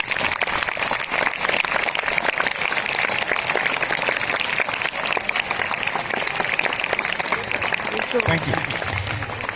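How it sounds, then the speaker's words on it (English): Students give a big round of applause to the first mathematics faculty on National Mathematics Day, sustained dense clapping throughout, with a brief spoken thanks near the end. "give big round of applause to the first mathematics faculty"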